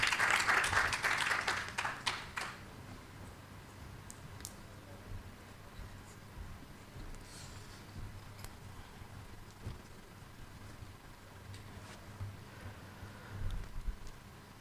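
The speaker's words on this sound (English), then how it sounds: "A round of applause for him, please. And a bigger round of applause for our panelists." Applause for panelists at a national content supplier forum, a short burst of clapping at the start that quickly fades to a quiet room with faint scattered taps and rustles.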